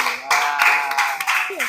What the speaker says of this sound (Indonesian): Tepuk tangan buat kelompok perindapan.